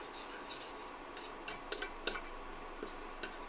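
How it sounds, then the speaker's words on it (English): A spoon stirs a keto gummy bear mixture in a bowl over boiling water, making a handful of faint, scattered metallic clinks and taps against a quiet hiss. "Now we're going to give it a stir."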